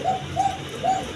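Pigeons of the high-flying Giribaj breed, a pair sitting on eggs, coo in three soft, repeated calls over a steady hum of background noise.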